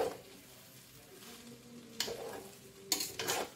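Vegetable fried rice being stirred in a pan, a soft continuous sizzle with scraping strokes that sharpen into louder bursts of stirring and tossing near the end, close and alone.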